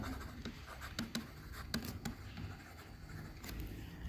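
Pen writing on paper while working an accounting problem: soft, close scratching strokes in short bursts with small tapping marks, quiet and steady, with no speech.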